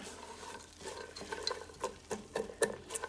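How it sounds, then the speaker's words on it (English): Onions are stirred into a pan while making sausage and spinach ravioli. A spoon makes a run of close scraping, clacking strokes over a light sizzle, growing more pronounced toward the end, with no talk. "In the onions go, and then get them all stirred in here"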